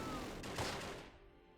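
Mortar shells bursting in the Close Combat war game, a dense booming explosion with crackling debris that swells and then tails off over under two seconds, with no talking.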